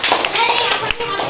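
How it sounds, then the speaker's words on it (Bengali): Students in a government school spoken-English class give a brief, scattered burst of hand claps, mixed with voices, over just over a second. "গুড। হাততালি দে।"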